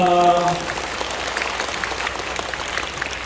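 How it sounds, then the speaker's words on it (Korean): Congregation at a church gathering in a cultural hall clapping together, a dense sustained applause that follows a short held musical tone at the start and continues evenly. "우리 하나님께 영광의 박수 올려드리겠습니다."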